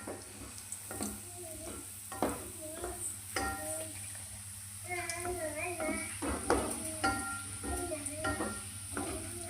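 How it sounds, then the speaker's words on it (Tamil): Health-mix flour gulab jamun balls sizzle and bubble in hot oil while being stirred with a utensil, a steady close frying hiss with occasional scrapes and faint voices in the background. "இப்போ பார்த்தீங்கன்னா இது ப்ரௌன் நிறமாக வர வரைக்கும் நம்ம பொரிச்சு எடுத்துக்கலாம்."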